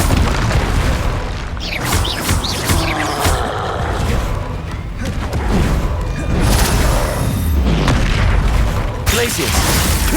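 Confringo spell explosions in Hogwarts Legacy, a rapid series of loud, close booming blasts and crashing bursts with sharp transients, repeating over ten seconds in chaotic combat, with occasional voices in the mix.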